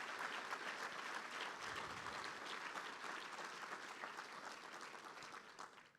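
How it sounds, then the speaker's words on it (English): An audience at a homecoming gala applauds a group of awardees, with a full, even wash of clapping that holds steady and then tapers off at the very end. "Let's give them a big round of applause again."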